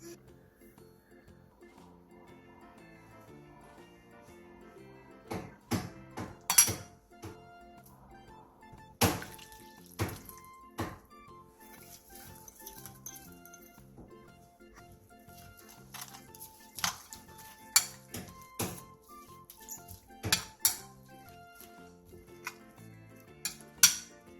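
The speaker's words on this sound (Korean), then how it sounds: "진간장 4스푼, 멸치액젓 1스푼, 매실액 1스푼, 설탕 3분의 1스푼, 물엿 2스푼, 다진 마늘 1스푼, 멸치육수 1컵을 넣고 골고루 섞어 양념장을 만들어주세요" A spoon stirs a seasoning sauce of soy sauce, anchovy fish sauce, plum extract, sugar, corn syrup, minced garlic and anchovy broth in a bowl, giving irregular bright clinks and taps against the dish over a low, steady background.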